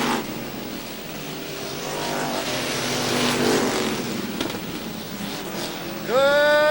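Street stock race cars roar around an oval track in a close pack, engines droning steadily and swelling as they pass, with a sharp whine rising near the end.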